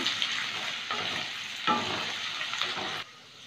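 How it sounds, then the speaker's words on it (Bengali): Finely chopped ginger fries in a pan, giving a steady close sizzle broken by a few scraping stirs, then cutting off abruptly near the end. "একটু আদা কুচি দিলাম, একটু ভেজে নেব"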